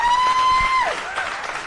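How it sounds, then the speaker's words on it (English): A crowd claps steadily at a Nevada Democrats rally in Las Vegas, the dense applause holding at a fairly even level for a couple of seconds, with a thin steady whine over it at the start. "Yes, please, clap."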